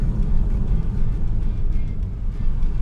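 A Porsche Cayman's engine drones steadily from inside the cabin as the car drives along, a continuous low hum with no talking.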